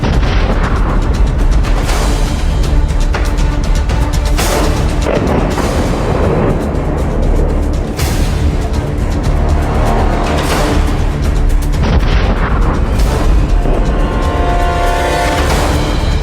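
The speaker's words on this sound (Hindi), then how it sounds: "पाकिस्तान ने एक साथ एलओसी के कई मोर्चों पर अपने मोर्टार के मुंह खोल दिए।" Mortar and artillery fire along the Line of Control rumbles in a loud, dense barrage, with heavy booms and bursts of gunfire piling up continuously throughout.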